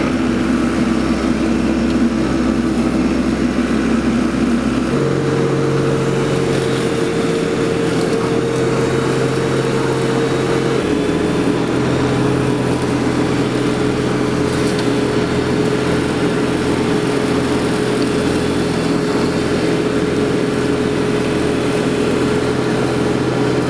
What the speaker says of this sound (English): I only have my mower hanging off of this one